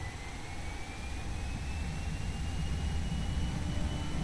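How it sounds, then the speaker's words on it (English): Simulated airliner engines at takeoff power in a flight simulator, a steady building jet roar with a rising whine, continuous and moderately loud, and no one speaking. "Just starting to hear those engines groan there."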